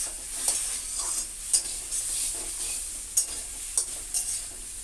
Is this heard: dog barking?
no